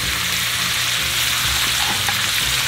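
Purple onions and garlic sizzle steadily in a hot pan, a dense, even crackle close by with no talking.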